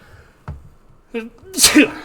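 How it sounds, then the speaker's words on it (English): A soft breath and a brief vocal catch lead into one sharp, close sneeze at the end. "There's also, pardon me, sneeze coming."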